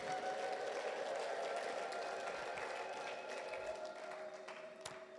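A church congregation applauds and ululates together, a steady dense wash of clapping with high trilling voices held at an even level throughout.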